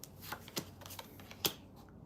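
A deck of tarot cards is shuffled during a live reading, giving a run of crisp riffling flicks and soft snaps at an irregular pace. A sharper slap lands near the end, close and moderately quiet, with no voices.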